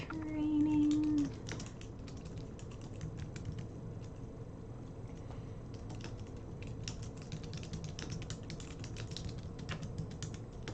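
Typing on a computer keyboard: quick irregular runs of light key clicks, close and fairly quiet, continuing for around ten seconds after a brief tonal sound at the start.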